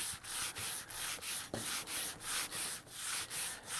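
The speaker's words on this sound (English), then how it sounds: "This is just a big sanding block, and you just start taking off that front corner like that." A big sanding block rubs back and forth along the front corner of a wooden indoor model airplane wing, about a dozen even rasping strokes in a steady rhythm, close and alone.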